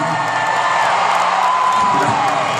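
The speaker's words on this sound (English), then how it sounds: "Well, don't cheer so loud" An audience at a Nikki Sixx talk cheers and whoops loudly, a dense continuous roar of many voices filling the hall.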